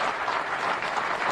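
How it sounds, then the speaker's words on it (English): Steady applause from a seated audience at a public address in Polokwane, Limpopo, a dense, even patter of clapping held at moderate distance for a brief stretch. "Let's give them a round of applause and thank them."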